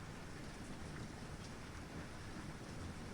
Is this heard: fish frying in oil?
no